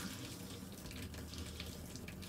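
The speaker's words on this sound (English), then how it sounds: "All you hear is the water flowing, really." A loud RV water pump runs with water rushing steadily through the pipes, a continuous broadband flowing hiss with a low mechanical hum beneath, close and unbroken throughout.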